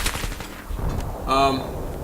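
PP2000 personal defense weapon fired in the first-person shooter Battlefield 3, a short low-rate burst of rapid gunshots cutting in near the end over faint game background noise.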